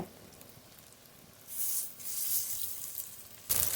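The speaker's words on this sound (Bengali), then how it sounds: "বড়াগুলো এবার ভালো করে ভেজে নেব" Shrimp and lentil fritters fry in hot oil, a soft crackling sizzle that starts faint and swells into a louder hissing spatter partway through, with another burst of spitting at the end.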